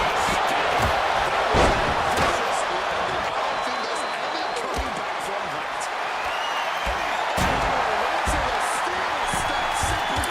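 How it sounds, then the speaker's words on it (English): Loud, dense wrestling arena crowd noise from the video game WWE 2K26 during a Joe Hendry versus Yokozuna match, a steady roar with bursts of cheering and occasional sharp hits, with no break across the whole stretch. "the crowd volume is like really high right now"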